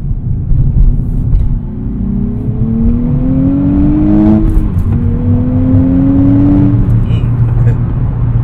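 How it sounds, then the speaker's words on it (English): A 2024 Nissan Z engine with a six-speed manual revs up in rising sweeps, dips, then climbs again, loud and close with a steady rumble underneath. "This car likes to be up there in the revs"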